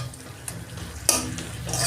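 Spices with cumin powder and turmeric are stir-fried in a pan, a soft, close sizzle broken by a few sharp scrapes and light clinks of the spatula.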